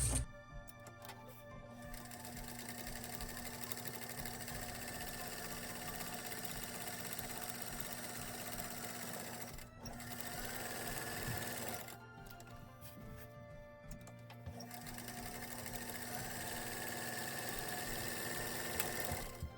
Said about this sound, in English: you're gonna go and top stitch all 4 sides. Make sure the needle down when you turn this.